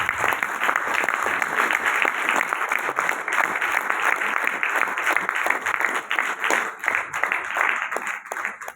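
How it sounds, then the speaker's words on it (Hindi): Loud, sustained audience applause fills a hall at a health product business presentation, dense and continuous clapping with no talk over it. "मैं चाहूंगा एस्क्लेपियस के लिए एक बार जोरदार तालियां।"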